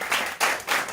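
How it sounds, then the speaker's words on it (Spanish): Audience applause at a Spanish-language energy and environment workshop: dense, steady clapping from a room of listeners, swelling in short waves, with no voices over it. "Pues le damos un aplauso, por favor."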